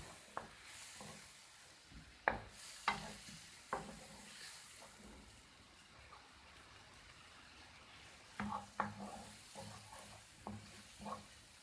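Onions fry gently in butter with a little oil in a pan for maqluba, a faint, steady sizzle broken by scattered scraping stirs and spoon taps, quiet and close.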